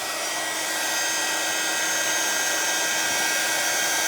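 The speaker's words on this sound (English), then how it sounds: "So bear with me while I just do the heat embossing." Heat gun melting embossing powder on a handmade tri-fold card, a continuous loud blowing whoosh and motor drone held steadily throughout, with no voices.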